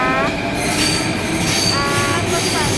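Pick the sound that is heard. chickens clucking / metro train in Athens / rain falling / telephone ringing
metro train in Athens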